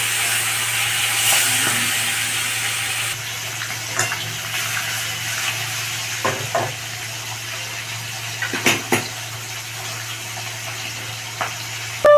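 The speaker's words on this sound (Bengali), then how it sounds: "তেলটা গরম হয়ে গেছে, কিছু ধোঁয়া উঠে গেছে," Fish frying in smoking-hot oil in a wok, a steady broad hiss throughout with a few short clatters and bursts, close and fairly loud, no talking.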